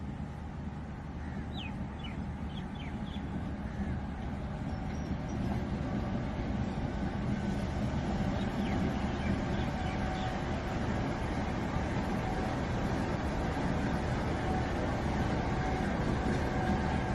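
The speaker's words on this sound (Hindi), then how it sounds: "ट्रेन का डिपार्चर हमने उस जगह से कैप्चर करने का सोचा" A train departs a station in Kasur, Pakistan, a continuous low rumble of rolling rail cars that grows slightly over time, with faint bird calls in the background.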